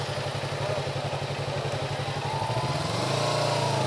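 Motorcycles idle close by while being parked during a monsoon ride to a valley, one engine thumping in a fast steady rhythm before a deeper rev takes over.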